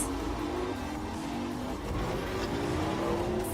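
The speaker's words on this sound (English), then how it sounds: "It sounds like a race car." A race-car-like engine effect in Overwatch 2 holds a steady, loud whine with a rising pitch, continuous and close throughout.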